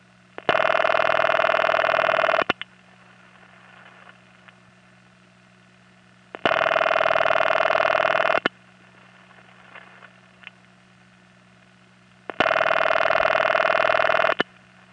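A vintage 1970s New York City telephone gives a harsh, buzzing raucous ring in three long bursts of about two seconds each, evenly spaced with quiet gaps of line hum and faint clicks between them.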